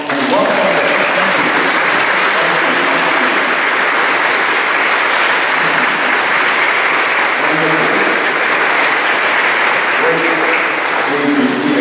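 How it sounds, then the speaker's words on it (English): A school church gathering for a May Crowning applauds newly welcomed communicants, a dense, loud, sustained round of clapping that fills the room evenly from start to finish, with faint voices underneath. "let's give them a round of applause and welcome them"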